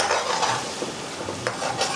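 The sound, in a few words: pre-cooked lamb stirred and frying on a tawa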